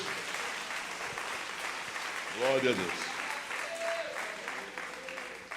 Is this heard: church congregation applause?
yes